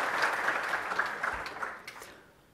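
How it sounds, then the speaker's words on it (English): A conference audience at a React developer talk bursts into applause with a few cheers, the clapping fairly close and gradually thinning out toward the end. "Now you can clap again."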